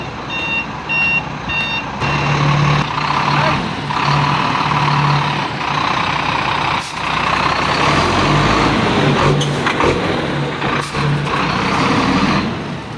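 A truck out on a test drive after repair of a dragging transmission, with reversing beeps at the start and then a steady engine and road rumble throughout, loud and close, with occasional air-brake hisses.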